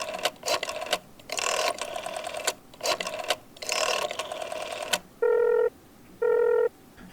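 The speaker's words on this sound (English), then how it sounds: "My mother picked up the phone and quickly dialed the Schwartz residence." A telephone being dialed: a series of mechanical whirring, ratcheting dial bursts, followed by two steady electronic ring tones, close and clear with no voices.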